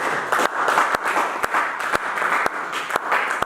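A church congregation clapping in a steady rhythmic beat, roughly two claps per second, over a continuous wash of crowd noise.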